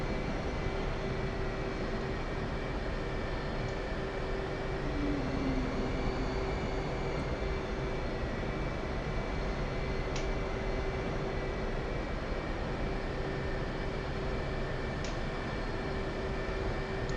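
Steady jet engine hum of an F/A-18 taxiing in a DCS flight simulator at night, a continuous broadband roar with a sustained tone, even and unbroken throughout.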